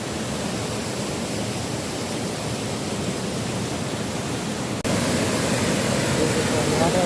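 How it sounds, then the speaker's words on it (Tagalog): Waterfall at a spring and river site, a steady loud broadband rush of falling water, close and continuous, with a brief dip and slight jump in level near the end. "Beautiful waterfall."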